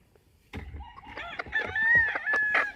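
A young Polish rooster gives a short, thin, wavering crow mixed with soft clucks, close and fairly loud.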